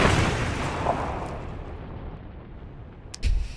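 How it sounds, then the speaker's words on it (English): Magic explosion effect from the anime Frieren: a big burst at the start that slowly rumbles and decays away, followed by a short sharp impact near the end. "the Frieren magic explosion onto the ground, the sound effects still like propagating during this conversation is crazy"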